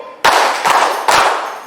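A group of people claps three times in unison during a school teacher-training session, each sharp, loud burst spread across the short stretch with brief gaps between them.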